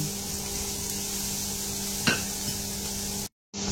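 Carrots and shrimp stir-frying in a pan give a steady soft sizzle under a faint electrical hum, with one sharp utensil tap near the middle before the sound cuts out briefly at the end.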